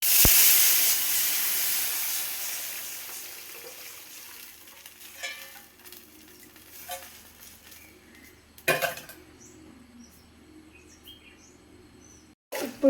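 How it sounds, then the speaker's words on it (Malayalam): Tamarind water poured into a pan of onions fried until browned: a strong hiss and sizzle that fades into a steady low frying simmer, with a few stirring clinks and pan knocks, no talk. "ഇനി ഇതിലേക്ക് നമുക്ക് പുളി ഒഴിച്ചു കൊടുക്കാം"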